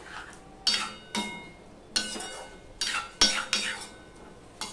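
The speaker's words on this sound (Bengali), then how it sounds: "উচ্ছেগুলো দিয়ে আমি কুমড়োর সাথে ভালো করে মিশিয়ে নিলাম।" A utensil scrapes and clanks against a metal pot in several separate strokes, mixing bitter gourd with pumpkin, close and fairly loud, with no talking.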